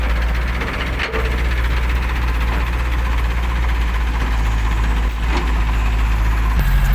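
An Isuzu 115 hp diesel dump truck engine idles close up with a steady, rough, vibrating drone that holds level throughout, broken by a couple of faint knocks.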